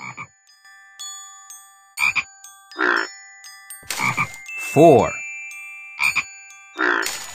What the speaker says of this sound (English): George has found some very musical frogs.